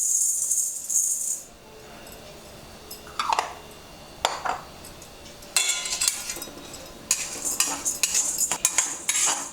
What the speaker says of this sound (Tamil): அதில் சீரகத்தை நல்லா வறுத்துட்டு இந்த மாதிரி நல்லா வறுக்கணும்